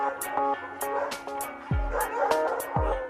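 Several dogs bark and yip in short bursts at an animal boarding kennel, with some whimpering between barks and a voice talking over them.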